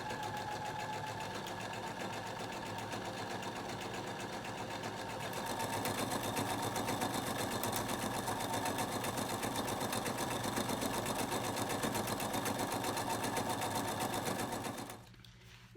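A sewing machine stitches a quarter-inch seam around a quilt piece, a steady fast mechanical whir close by that speeds up partway and then stops abruptly near the end.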